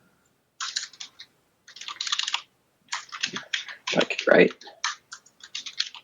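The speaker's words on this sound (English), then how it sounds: "What's the brand of the keyboard? A Keychron." Bursts of rapid clicking keystrokes on a Keychron computer keyboard, close and fairly loud, with pauses between runs and a few brief spoken words in between.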